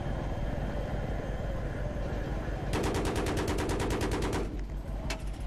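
Machine gun fire in the Battlefield 3 video game during helicopter play, a rapid burst of evenly spaced shots lasting about two seconds over a steady engine drone, then a lone shot near the end.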